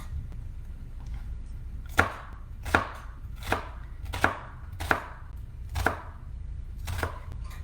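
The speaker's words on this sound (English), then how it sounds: "that's why we like to cut it lengthwise versus cutting it crosswise when we cut the halves" Knife chopping a shallot lengthwise on a cutting board: seven or eight crisp, evenly spaced thuds, close and clear over a quiet background.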